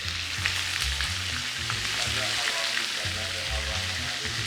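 Duck breast searing in a pan for Asian-style sliders, a loud, dense, continuous sizzle close up with a steady crackle and no break.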